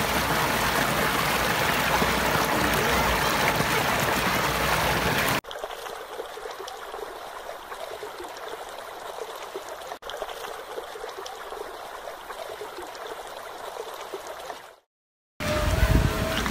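Water from a spring runs steadily through a series of garden ponds in a Mughal garden at Wah, a continuous trickling and streaming rush heard close and alone, with a brief dropout near the end before it resumes louder.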